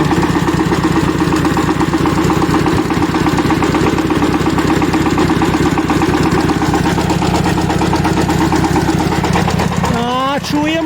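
A loud turbocharged Shifeng tractor engine idles steadily with a rough, throbbing low rumble throughout, close by; a brief rising whine near the end.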